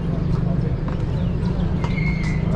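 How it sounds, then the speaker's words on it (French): Horse-drawn carriage taxis at a busy stand in the Marrakech medina, horses heard amid a loud crowd with people talking throughout and brief high calls over the noisy street. "ici c'est le lieu de taxi calèche"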